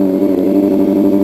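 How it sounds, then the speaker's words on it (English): Steady engine and road traffic noise surrounding a rider on a motorbike, a dense continuous mid-range hum of nearby vehicles with no pauses. "Trying to get away from this traffic."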